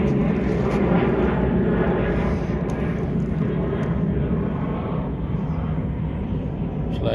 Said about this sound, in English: Just letting the plane past